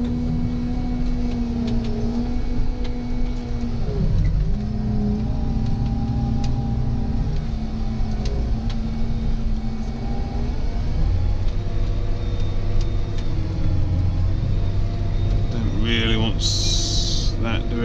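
A JCB Fastrac tractor engine runs at a steady drone with harmonic tones that dip and rise as the revs shift, loud and close, with a voice speaking over it.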